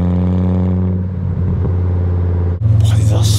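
A car engine revs hard and close, with a deep, hollow-sounding exhaust drone that holds steady, then shifts to a rougher, pulsing note near the end.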